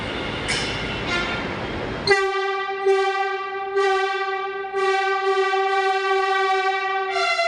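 A Yellow Line metro train on its trial run between RV Road and Bommasandra sounds a loud, sustained horn with a steady tone and slight pitch shifts, cutting in after a brief stretch of rumbling background.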